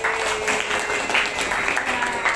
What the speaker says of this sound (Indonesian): Tepuk tangan dulu untuk yang sudah jawab.